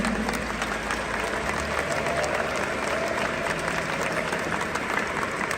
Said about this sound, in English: Let's give a big round of applause for all of the Pokemon TCG trainers